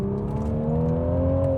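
A Toyota GR Supra in sport mode with a brief throttle blip, the engine note climbing smoothly and steadily, close and fairly loud, with no talking over it.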